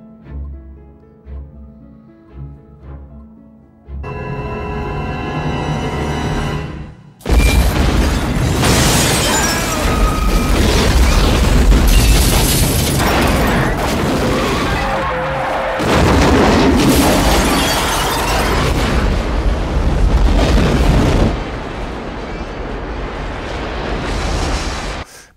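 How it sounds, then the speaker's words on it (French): A large explosion from The X-Files feature film erupts with a deep booming blast and a long, loud roaring rumble of debris, preceded by quieter tense music and a rising tone. "Et donc ça explose, alors c'est un moment qui est extrêmement marquant."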